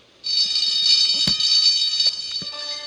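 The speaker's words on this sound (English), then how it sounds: "A few days later, the alarm sounded again." A continuous high-pitched electronic fire alarm rings loudly and steadily in a Thomas and Friends cartoon, with a sharp clank partway through and a lower tone entering near the end.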